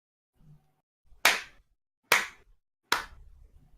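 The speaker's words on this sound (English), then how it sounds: "You guys hear a clapping." Three slow, loud hand claps spaced about a second apart, sharp and close with silence between, after a brief faint murmur, as if a single person is clapping deliberately.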